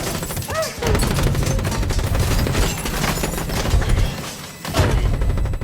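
Rapid sniper gunfire in a dark forest movie scene, bullets shattering villa glass, comes as a dense, continuous fusillade of sharp cracks and crashes, loud and close throughout.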